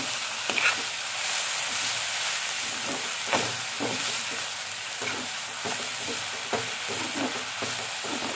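Taikla wild greens sauté Malvani style in a pan, with a continuous bright sizzle and crackle and occasional scraping knocks of stirring, close up and steady throughout.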